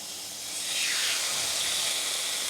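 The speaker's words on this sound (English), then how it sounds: "Can you hear the sizzle?" Chicken breast sizzles as it is laid on a very hot cast iron pan, a steady broadband hiss that swells after half a second and holds, close and fairly quiet, with no talking.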